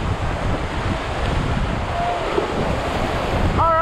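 Whitewater rapids rush during a rafting trip in the Smokies, a broad, continuous roar mixed with wind buffeting the microphone and a faint voice near the end.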